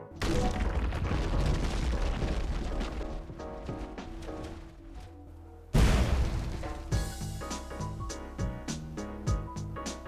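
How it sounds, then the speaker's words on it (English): Islands exploding in a survival video game: deep booming blasts and crackling bursts layered over game music, with a sudden loud explosion hitting partway through, followed by a rhythmic, percussive scatter of hits. "islands can become unstable after a certain amount of time and then explode"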